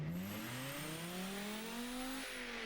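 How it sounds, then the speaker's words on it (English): Video game car engine tuned to sound like a Nissan GTR, revving with rising pitch through one gear, then a sharp shift and renewed climb, loud and close with no talk. "That sounds like a GTR shifting."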